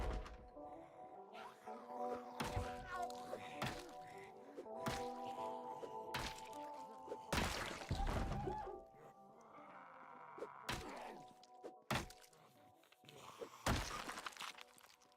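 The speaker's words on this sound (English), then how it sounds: "Since it's just the one, I just went ahead and executed it." A knife executes a zombie in the video game Project Zomboid, heard as a series of sharp, close crunching thuds and smashing hits separated by short gaps.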